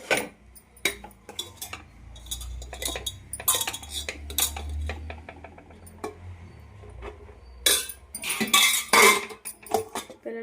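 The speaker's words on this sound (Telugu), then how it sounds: "ప్లేట్లో కర్రీ వేసేసి రైస్ వడ్డించేస్తున్నాం" Ridge gourd curry and rice being served onto plates, with repeated clinks and scrapes of a serving spoon against metal dishes in bursts throughout, louder near the end.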